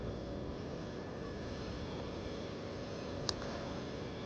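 An RC model airplane's electric motor drones steadily in flight as a constant, even hum with airy noise, heard from a moderate distance and holding level throughout, with no talking.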